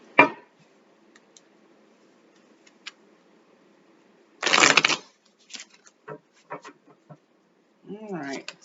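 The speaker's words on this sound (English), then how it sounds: "Let me shuffle one more time." Tarot cards are riffled and shuffled in a quick burst, followed by a few soft taps and snaps as the deck is handled, with a short spoken phrase at the end.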